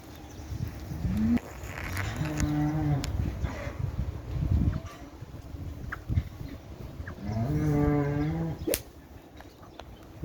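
Cattle at a farm, part of a herd of about a hundred, give two long, fairly close moos separated by quieter farmyard noise.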